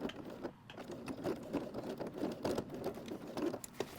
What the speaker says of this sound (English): The zipper allowed me to stitch right over that snap.